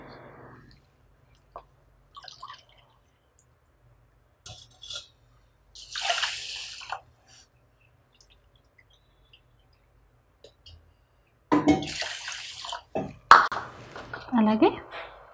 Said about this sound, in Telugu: ఈ రైస్ని ఇప్పుడు కడుక్కొని కుక్కర్లో వండుకుందాము